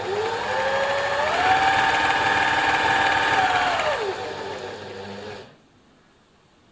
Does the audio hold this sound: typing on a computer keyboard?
no